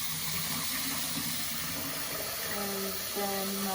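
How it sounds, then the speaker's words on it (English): Kitchen tap water runs steadily while meat is rinsed for Nigerian pepper soup, a continuous close hiss with a brief shift in flow partway through. "I'm gonna rinse this."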